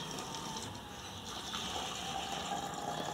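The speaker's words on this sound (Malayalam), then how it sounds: "ഇതിന് വേണ്ടത് ഇതിൻ്റെ പകുതിയോളം വെള്ളം നിറയ്ക്കുക." Water pouring into a plastic bottle until it is about half full, a steady close rushing and gurgling fill with no one talking over it.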